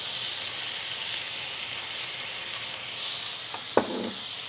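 A pork chop seasoned with salt, coconut powder and pepper sizzles steadily in a hot pan, a continuous hiss broken near the end by a single sharp knock of a utensil.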